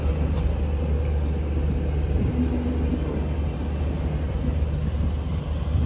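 Another train rolls through the Madgaon station yard with a steady, loud low rumble of wagons and a brief metallic wheel squeal midway.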